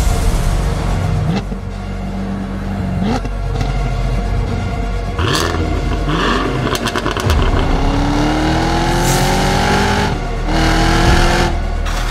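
The 6.2-liter supercharged V8 of a 2023 Cadillac CT5-V Blackwing manual sedan revs repeatedly, with rising and falling engine pitch sweeps and short bursts, loud and close throughout.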